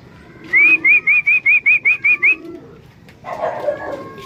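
Pigeons call nearby in a quick run of about eight short, rising whistled notes, then a brief rustling noise follows.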